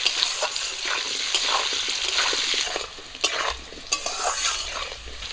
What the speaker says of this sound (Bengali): লবণ হলুদ দিয়ে আলুগুলো একটু লাল করে ভেজে নেব